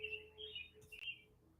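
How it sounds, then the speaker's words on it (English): Birds chirp outside in short, clear bright calls, several tweets in quick succession, faint and distant against a quiet background. "don't think I've ever heard the birds as loud before."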